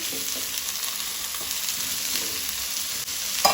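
Kanga, a Goan yam, sautéing in a pan with onion for a Goan-style sabji: a steady, even sizzle of frying throughout, close and continuous, with a sharper scrape of stirring near the end.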